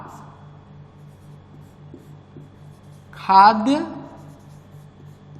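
Someone writes on a classroom board during a lesson, making faint scratchy strokes under a low steady hum. A teacher's voice speaks briefly near the end.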